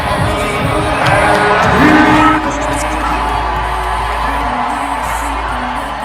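Large crowd at a WNBA preseason basketball game, a loud wash of cheering and whoops that swells briefly near the start and then settles into a sustained roar.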